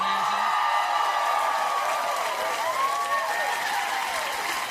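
A late-night talk show studio audience applauds and cheers loudly and continuously, a dense wash of clapping with occasional whoops and a voice faintly underneath.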